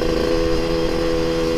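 Yamaha RX King motorcycle with a standard engine and daily-use porting, idling with a steady, close two-stroke drone, no speech.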